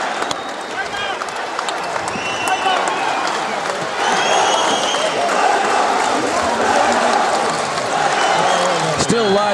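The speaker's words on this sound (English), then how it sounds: "Large sections of the crowd chanting Nader Hamdan's name, appreciative of the effort that he's put in tonight" Boxing crowd at the Sydney Entertainment Centre chanting a fighter's name after a bout, a loud, sustained roar of many voices swelling steadily and filling the whole stretch.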